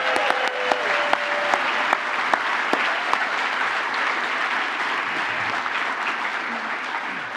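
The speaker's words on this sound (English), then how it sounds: "I need one big round of applause right for both Jen and Abby and the entire Channel Source crew." A conference audience at a telecom channel partner event applauds in a dense, steady round of clapping with a few sharper individual claps, sustained loud throughout and with no talking.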